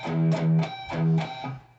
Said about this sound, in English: some palm muting and pinch harmonics.